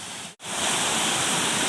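Rushing water from a small waterfall, the first tier of Khao Sip Ha Chan falls in Chanthaburi, Thailand, fills the scene with a steady broad hiss, close and continuous after a brief cut.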